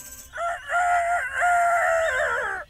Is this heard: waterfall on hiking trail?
no